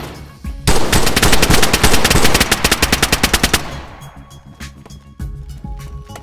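Automatic gunfire in the survival video game DayZ during a clan base raid: a loud, rapid burst of machine-gun shots lasting about three seconds, followed by scattered fainter shots.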